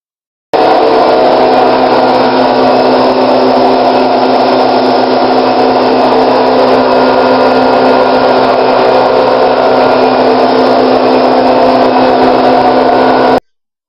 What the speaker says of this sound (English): when the milk machine is on, it is extremely loud